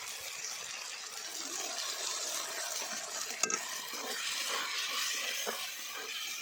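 Potatoes and fish frying in a pan with chili powder and turmeric, stirred steadily, giving a continuous sizzle with faint scraping and clinks of a utensil throughout, no voices.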